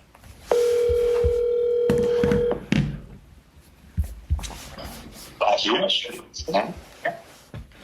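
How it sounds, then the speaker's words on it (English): Telephone dial tone with stacked steady tones, played back from a recording of a phone call, lasting about two seconds at the start; afterward people talk over clicks and thumps. "why don't we just play the phone call?"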